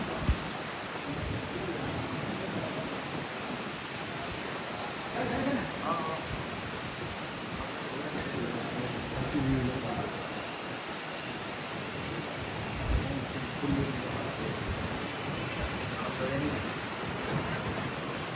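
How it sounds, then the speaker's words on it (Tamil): Heavy storm rain falling over urban areas of Jaffna, a dense continuous hiss of downpour with some low gusty rumble, steady throughout and fairly loud, with a voice talking faintly beneath it. "யாழ்ப்பாணத்தின் நகர பிரதேசங்களை அண்டிய பிரதேசங்களில் எவ்வாறு மழை பெய்து கொண்டிருக்கின்றது"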